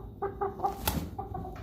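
A rooster clucks in short repeated bursts, close by, with a brief louder squawk in the middle and soft background rustle.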